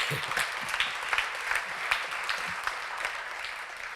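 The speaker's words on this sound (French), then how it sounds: "Donc, on peut applaudir" An audience at an anniversary gathering applauds, an even, moderately distant patter of many hands clapping continuously with no speech over it.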